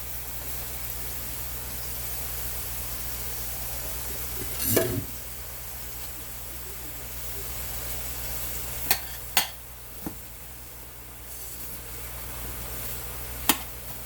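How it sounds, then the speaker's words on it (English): Cabbage and onions stir-frying in a pan over high heat, a steady broadband sizzle that continues throughout, broken by a few sharp clicks and scrapes of stirring, fairly quiet and with no talking. "I got the heat up real high because I want as much stir frying going on here as I can possibly get"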